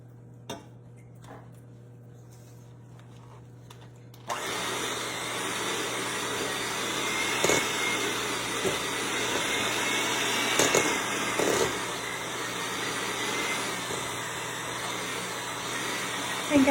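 Pimento cheese is stirred and mixed in a bowl, giving a continuous scraping, mashing noise with occasional utensil clinks after a quiet start.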